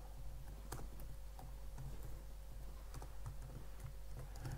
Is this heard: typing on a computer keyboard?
yes